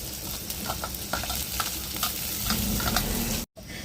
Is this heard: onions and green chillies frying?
yes